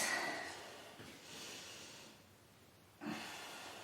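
Deep, airy breaths during a strong Ashtanga-style yoga sequence: a long hissing exhale, a second softer breath, a quiet pause, then a sharper breath. All are close and alone, with no talking.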